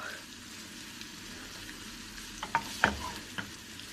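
Two onions fry in a pan while a spoon keeps stirring them, a soft low sizzle broken by several sharp scraping clinks of the spoon against the pan near the end.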